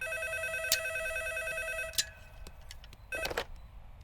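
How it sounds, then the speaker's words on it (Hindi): A telephone rings in a room in two or three bursts of bright trilling tones, each stopping abruptly, followed by rustling movement nearby. "अभी फोन हमारे रूम में बज रहा है।"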